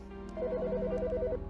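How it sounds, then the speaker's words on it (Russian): A telephone rings in the video game Autopsy Simulator with a rapid electronic trill that repeats as one steady burst of about a second, close and clear, with no talk. "Ну да, сраный телефон."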